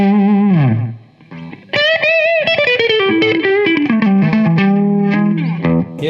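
A distorted electric guitar, a Les Paul through a Boss DS-1 distortion pedal, plays sustained, bending notes and a short melodic run, loud and gritty with a thick fuzzy tone.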